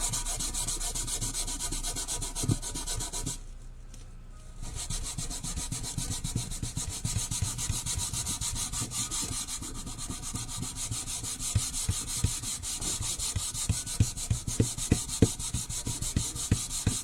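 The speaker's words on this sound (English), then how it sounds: "Because we're actually almost done rubbing this in." Hands rubbing Unicorn Burst product together in a steady, close, continuous friction texture that pauses briefly and then resumes, with sharper scuffs toward the end and no talking.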